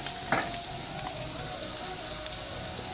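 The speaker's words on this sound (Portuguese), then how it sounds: "agora que a nossa carne já fritou" Beef frying in a pan sizzles steadily and loudly, a dense crackling hiss that runs throughout with a few small pops and a brief stir.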